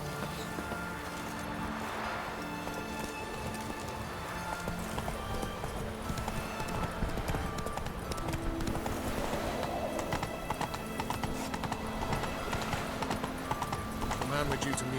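Hooves of Geralt's horse Roach clip-clopping steadily in The Witcher 3, a continuous rhythmic trot under game music and ambience, with a voice speaking over it at times.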